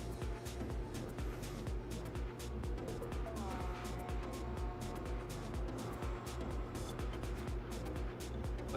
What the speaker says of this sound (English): Don't you just love the sound of car engines going by?